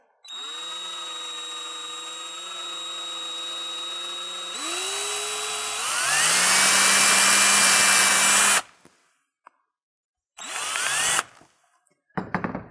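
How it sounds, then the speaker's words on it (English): A power drill with a very small bit whines steadily, rises in pitch as it bores out plastic in a 1970 Camaro gauge cluster, then stops; two short follow-up bursts come after a pause. "So I'm going to drill out the plastic here"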